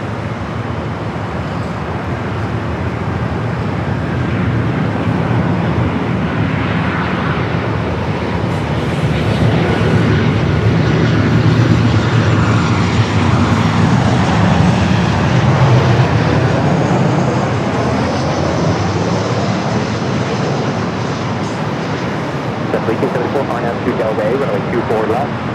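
Alaska Airlines Boeing 737-900ER from Seattle arriving at LAX, a broad rising and falling jet roar that swells to a peak midway and then fades slowly, with someone talking over it throughout.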